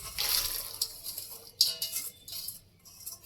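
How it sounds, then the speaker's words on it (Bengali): Sweet corn kernels tipped into a pot of lightly heated water for boiling, giving a few soft splashes and brief watery patters, close and fairly quiet, with no talking. "এবার এই সুইট কর্নগুলো দিয়ে দেবো।"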